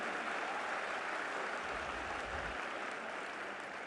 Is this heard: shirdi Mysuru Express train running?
no